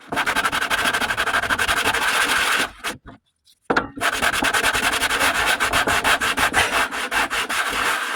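Hand sanding on a handmade wooden cross, steady rasping strokes in a fast, even rhythm, close and loud, broken by a brief pause before the scrubbing resumes.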